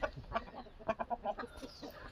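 A native country chicken in a village backyard gives a short run of clucking calls, a few quick bursts close by and moderately loud, with no talk.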